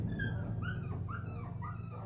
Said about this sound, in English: The final sound that was rotated in was that of puppies being tortured.